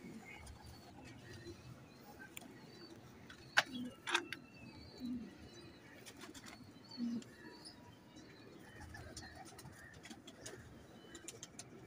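A male pigeon of an old performance bloodline coos softly a few times amid quiet background ambience, with faint short clicks and knocks nearby.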